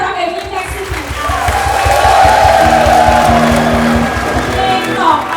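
A crowd at a concert inside Nakhon Nayok prison cheers and claps to welcome a performer, a steady roar of voices and applause swelling in the middle.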